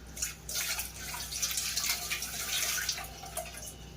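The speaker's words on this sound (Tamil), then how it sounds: "இது 1 நிமிஷம் கை கழுவிக்கிறேன்." Running water from a kitchen tap splashes over hands being washed after mixing a fish curry marinade with salt and pepper, a quiet continuous hiss with faint irregular splashes and no talk.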